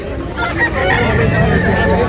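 Chickens cluck steadily nearby while a rooster crows, a busy farmyard chorus with no pauses.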